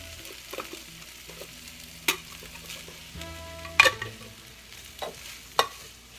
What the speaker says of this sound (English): Now we just want to get our corn in.